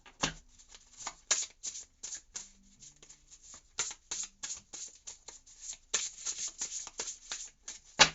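Oracle cards shuffled by hand during a tarot-style reading, a rapid run of crisp riffling and flicking bursts, close and fairly soft, with no talk.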